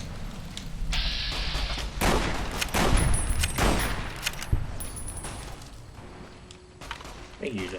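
Gunfire in the video game Fallout: New Vegas during a fight with the White Legs: a rapid fusillade of loud, sharp shots and heavy booms in dense bursts, with a voice talking over parts of it.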